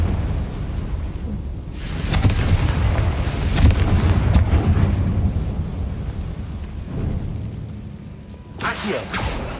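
A Confringo spell explosion in Hogwarts Legacy booms deep and loud, swelling into a rumbling blast that fades slowly, followed by a sharper crack near the end, with a voice faint beneath.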